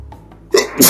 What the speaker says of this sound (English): I need to sneeze. My hay fever's not very good.